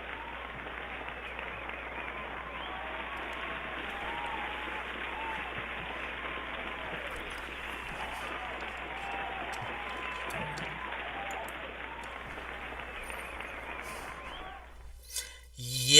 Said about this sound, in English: after that long applause